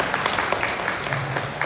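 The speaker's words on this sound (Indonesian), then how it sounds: "Tepuk tangan atuh Bapak." Village audience at a local government gathering in Cisayong claps in scattered bursts, a thin, steady patter of hands with a low hum underneath.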